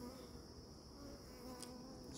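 Honey bees buzz steadily at an open beehive during an inspection with the honey super off, a faint continuous drone with no voices over it.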